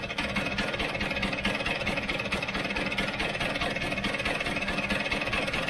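A cold Vespa GS scooter engine idles with a steady, throbbing, slightly uneven putter, heard up close and alone for the whole stretch.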